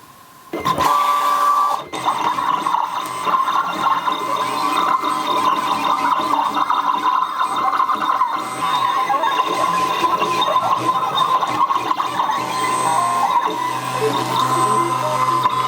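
A Siser Juliet vinyl cutting machine whirs and hums steadily after a short mechanical start, with faint clicking and whirring movements throughout; fairly quiet and continuous, no talking.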